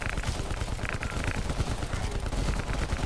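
Rapid light machine gun fire in Call of Duty Black Ops Cold War multiplayer, dense and continuous bursts filling the whole stretch at close range with a chaotic battle mix behind.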